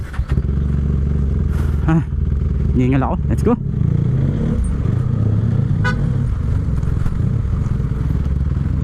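Loud engine rumble of a motorcycle riding through traffic, with wind noise, passing horns and a few brief words spoken over it.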